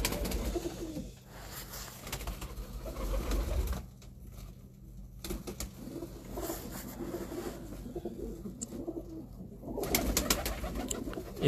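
Pigeons in a rooftop breeder loft coo in repeated low, throaty phrases, close and clear, with soft rustling between calls.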